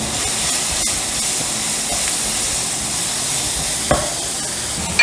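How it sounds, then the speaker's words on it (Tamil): Chopped onions sautéing and being stirred in ghee with cumin and asafoetida for a spicy spinach kichdi, a steady close sizzle and hiss running throughout with a brief scrape of stirring near the end, no talking. "அடுத்தது பொடியாக நறுக்கின வெங்காயம் சேர்த்துக்கலாம்."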